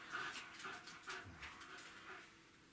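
A dachshund gives faint, high whimpers and short whines in a few brief bursts during an obedience training session indoors.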